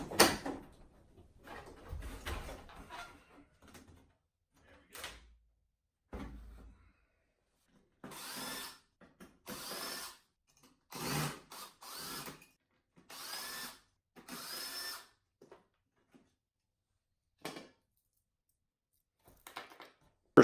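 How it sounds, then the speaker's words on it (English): Screws are backed out of an old TV's back panel with a power driver, heard as short, close whirring bursts and small clicks separated by pauses, irregular and fairly quiet, with no talking. "First step in this process is to remove all the screws from the back panel."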